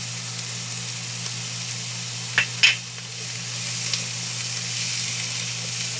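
White onion and spring onion sizzle and fry in a pan, with two quick scraping stir strokes near the middle over a steady hiss, and no voices.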